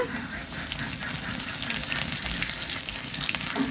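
Onion frying lightly in a pan, a dense, steady close sizzle with faint stirring, even and continuous throughout, with no talking.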